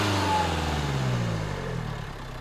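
Renault Kadjar 1.5 dCi diesel from 2016 with a flat-performance fault, its engine heard close up as a rumbling rev that rises and then eases back toward idle, alone without talking.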